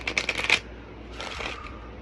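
Tarot cards shuffled by hand in a quick burst of riffling flutters lasting about half a second, followed by faint softer handling noise.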